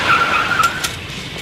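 Tires squeal as a car skids in the video game Max Payne 3, a loud sustained screech that wavers over the engine's roar.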